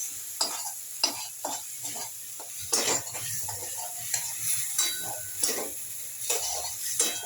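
Spice paste stirred and sautéed in a pan for a squash curry, a spoon scraping in repeated rhythmic strokes over a steady soft sizzle, close and alone.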